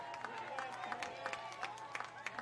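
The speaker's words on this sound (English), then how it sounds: "Gets a nice applause from the crowd as well." Spectators at a Presbyterian College versus High Point University college soccer game applaud a ball boy, giving scattered, distant clapping and crowd murmur over a steady outdoor stadium background.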